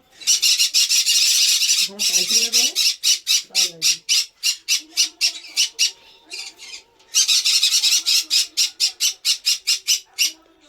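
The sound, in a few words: red factor canary chicks squawking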